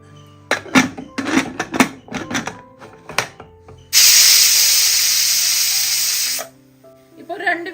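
A pressure cooker cooking tender jackfruit lets out one loud, steady hissing whistle lasting about two and a half seconds, preceded by clattering kitchen sounds.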